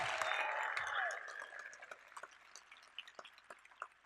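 Commencement audience applauding and cheering, a loud wash of clapping and whoops that fades after about a second into scattered claps tapering off.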